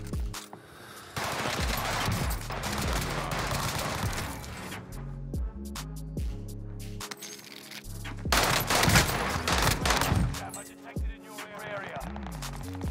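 Rapid gunfire from the Call of Duty Rebirth Island battle royale, with bursts of automatic shots and scattered single cracks over about thirteen seconds, loud and close, with louder volleys near the end and brief pauses between.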